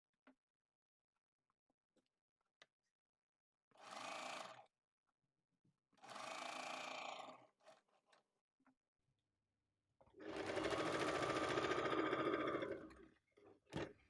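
A sewing machine stitches a patchwork quilt, running in three close, even bursts: two short runs and a longer final one, separated by quiet pauses with small handling clicks.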